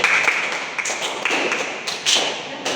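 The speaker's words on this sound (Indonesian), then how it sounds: "Beri tepuk tangan untuk semuanya." Classroom applause as students clap for presenting groups, a dense fairly loud patter of many hands throughout with a few stronger nearby claps standing out.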